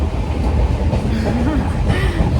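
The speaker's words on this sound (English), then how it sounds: "The train slowed down, guys." Passenger train slowing as it nears Udupi, a close steady rumble of the carriages with a faint squeal of braking wheels partway through.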